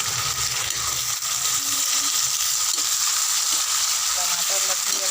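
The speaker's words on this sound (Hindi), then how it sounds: "देखो ये प्याज हमारा अच्छा से तला के अब डालबो एमा टमाटर" Chopped onion and tomato frying in a pan, a continuous close sizzle and crackle with occasional stirring clinks, steady and fairly loud throughout.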